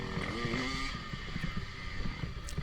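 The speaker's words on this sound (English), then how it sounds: "I'll rev it up a couple of times, let them know I'm back there." Motocross bike engine revving during a race on a sandy track, a near, rising and falling motor whine with choppy throttle blips over other bikes' engine drone.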